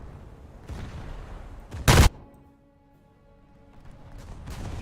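A single loud warship gun blast in a naval combat video game, a sharp booming report standing out over low rumbling game ambience, followed by a quieter stretch and faint distant thuds.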